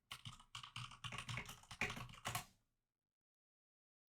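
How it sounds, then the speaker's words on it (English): Typing on a computer keyboard set at an awkward angle behind a microphone, a quick run of close, crisp key clicks in bursts for about two and a half seconds before stopping. "I'm typing at an odd angle."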